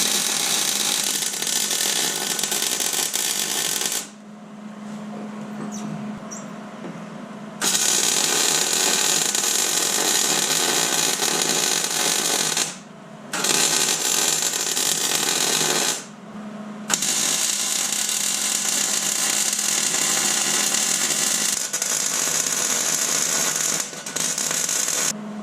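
A wire welder lays beads on a custom steel flatbed for a Ford F350, a loud close crackling buzz running in long bursts broken by a few brief pauses.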